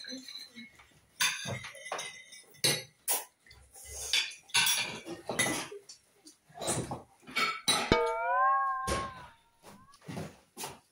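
A bowl and spoon clink and clatter in short bursts at a home lunch, with a cat meowing loudly partway through and people talking in between.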